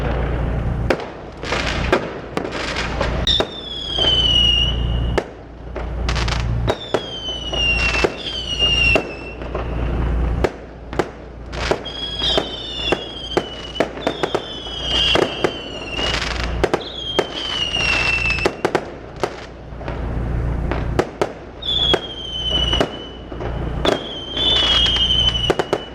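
Fireworks burst over Quetta on 23rd March in a public display, a dense run of loud close bangs and crackling pops with rising whistles between volleys, sustained throughout.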